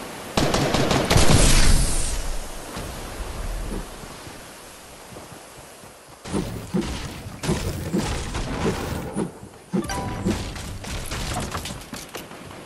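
Gunfire rings out in a shooter video game: a dense loud burst of rapid shots at the start, then a quieter lull, followed by several more clustered volleys of automatic fire, with no speech.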